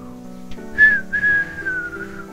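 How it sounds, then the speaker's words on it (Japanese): A single person whistles a clear, rising-and-falling tune for about two seconds during a horror game, the whistle standing out bright and close over a low, steady background music bed. "みんなからしたらこの口笛がちゃんとなったかな。"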